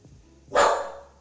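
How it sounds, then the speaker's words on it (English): A dog gives a single sharp bark, sudden and fairly loud against a quiet indoor background, trailing off quickly with no talk. "You're gonna make Murphy bark"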